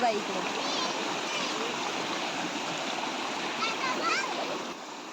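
Flood water rushes under pressure through a farm field, making a dense, continuous churning roar close by with splashy texture and a faint voice briefly underneath.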